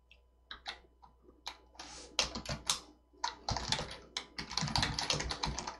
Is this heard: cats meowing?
no